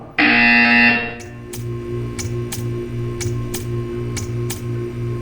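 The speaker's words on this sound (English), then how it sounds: "You will hear a buzzer." A loud harsh electronic buzzer in the video game Portal 2 blares for about a second, then gives way to a steady rhythmic ticking with a low pulsing hum underneath.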